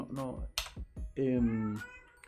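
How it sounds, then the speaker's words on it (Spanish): A house cat cries and meows nearby in a room, giving a few drawn-out plaintive meows over a couple of seconds, with speech-like voice sounds mixed in. "mi gato está ahí llorando."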